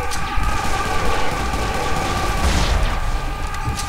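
Dense, continuous gunfire from Serious Sam: BFE, a steady roar of rapid shots and blasts filling the whole stretch with no pause, close and loud.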